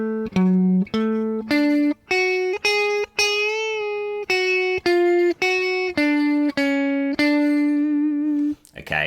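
Distorted electric guitar playing an intro riff, a run of sustained, separately picked notes with short gaps between them, loud and close with no talking.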